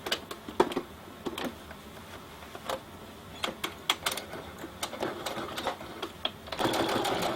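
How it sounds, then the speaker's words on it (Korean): A sewing machine stitches a seam on a leisure hat, running in bursts of rapid, even ticking close by, pausing between runs and ending in a longer steady stretch, with no talking. "그러면은 이제는 그 중간을 박습니다"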